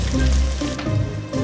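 Crispy chicken pastil sizzling and frying in a pan, a steady close hiss with a dip in the middle before the sizzle picks back up, no voices.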